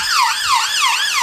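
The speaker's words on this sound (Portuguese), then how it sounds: "o cara abriu pra ambulância passar" Loud ambulance siren wailing in fast rising and falling sweeps as the vehicle moves through street traffic, close and dominant with no talk over it.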